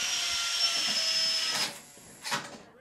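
A steady, loud mechanical whir of a combat robot's fan pressing it down onto the arena floor, cutting out abruptly, followed by a brief scraping burst and a short surge of noise.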